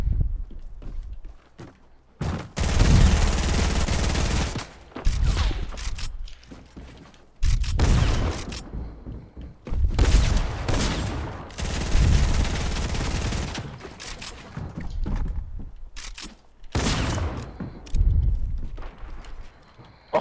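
Loud bursts of automatic gunfire in Fortnite come in several long volleys separated by short pauses, with scattered single shots and footstep-like thuds between them.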